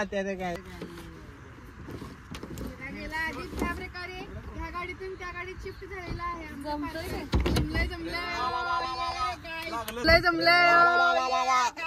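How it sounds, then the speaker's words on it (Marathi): A car's power window slides down with a whirring motor, under voices and other sounds inside the vehicle. "अरे काच खाली"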